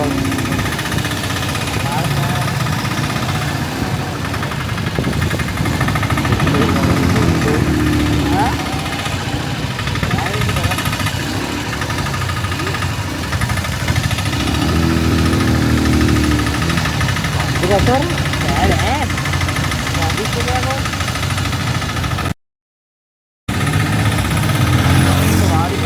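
A motorcycle engine drones steadily while riding through Sri Lanka during the Poson festival, running continuously for most of the stretch with a brief cutout near the end, while people talk over it.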